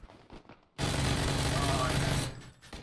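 A single PUBG gunshot aimed at a box, heard as a sharp loud blast with a sustained burst of noise lasting over a second, followed by faint talking.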